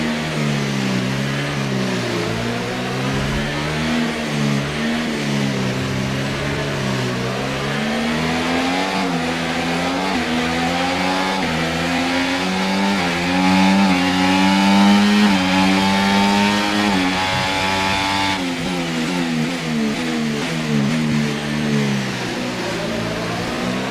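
A Formula 1 race car engine from F1 24 at the Shanghai sprint race, carrying wear, howls loudly and continuously, its pitch climbing and dropping through gear shifts for the whole stretch with no talk.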